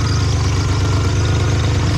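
A Ford Bronco II engine idles steadily with exhaust leaks and rattles, a loud, continuous low rumble with a busy mechanical clatter running through it, close up and unbroken throughout.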